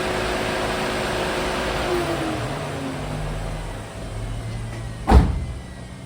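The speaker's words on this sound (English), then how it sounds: "I can hear that fan spinning down." A car engine's cooling fan whir slowly winds down and fades, followed by a short sharp click, against a steady low hum.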